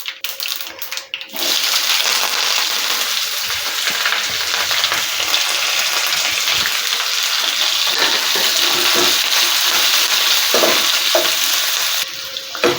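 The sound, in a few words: onion, curry leaves and green chilli frying in a pan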